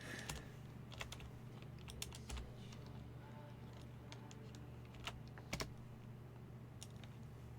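Quiet, scattered keystrokes on a computer keyboard, irregular taps and a few clustered clicks, close but soft over a faint steady electrical hum, with no speech.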